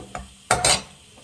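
Ingredients for bisi bele bath are fried in a pan, with a light tap followed by two quick, close spatula scrapes over a faint sizzle.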